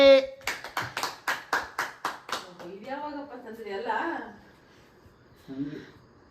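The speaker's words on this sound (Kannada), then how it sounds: "ಎಲ್ಲ ಚಪ್ಪಾಳೆ ತಟ್ಟೆ" About eight quick, evenly spaced hand claps ring out at a midnight family birthday surprise at home, then give way to voices talking.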